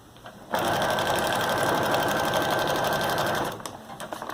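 Sewing machine stitching a strap onto a tote made from a feed bag: a steady, close mechanical whir running for about three seconds, beginning and ending abruptly, with no talk.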